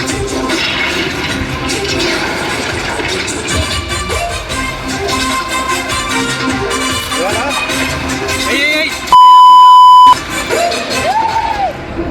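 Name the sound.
censor beep sound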